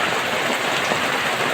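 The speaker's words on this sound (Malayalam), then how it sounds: "മഴ പെയ്തു തുടങ്ങി." Rain falls steadily, a loud, even wash of close hiss that fills the short moment without a break.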